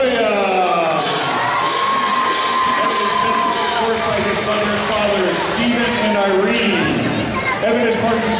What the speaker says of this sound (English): Ladies and gentlemen, give a big round of applause for Evan Tafoya.